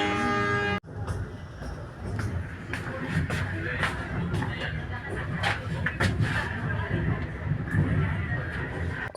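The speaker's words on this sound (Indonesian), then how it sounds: "kereta api komuter lain yang kita naiki ini sudah berangkat dari stasiun Cikudapate" A commuter train departing a station rumbles and clatters with irregular knocks and creaks, while people talk quietly in the background.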